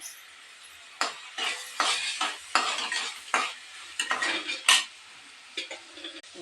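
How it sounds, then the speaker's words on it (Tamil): Ridge gourd fries in a pan for an egg podimas, with a sizzle cut by repeated bursts of a spatula scraping and clinking against the metal, fairly close and irregular, with no one speaking. "இப்போ வந்து நம்ம பீர்க்கங்காயை நம்ம ஃப்ரை பண்ணிகிட்டு இருக்கோம்"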